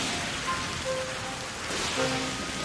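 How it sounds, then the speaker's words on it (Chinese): Rain starts to fall in an animated story scene, a steady close patter of drops with brief tonal chimes layered over it and no speech. "糟糕，开始下雨了，"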